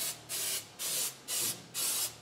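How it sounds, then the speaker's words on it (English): An aerosol can sprays cleaner onto the halves of a Chevrolet front differential case in four short, even bursts of hiss with brief pauses between them, close and clear in a quiet workshop. "Spray that on your both halves."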